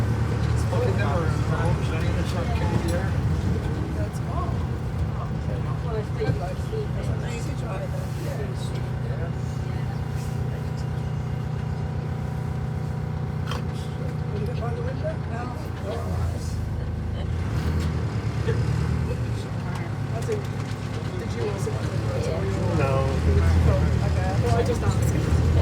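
A vintage heritage minibus running at a bus rally in Taunton: a continuous low engine rumble with rattles and hiss from the ride, heard from on board beneath people talking.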